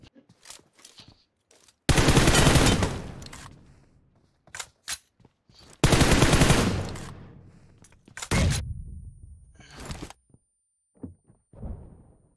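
A 4x-scoped rifle in PUBG Mobile sprays rapid automatic fire in two loud, dense bursts of about a second each, separated by a few scattered single shots and quiet gaps.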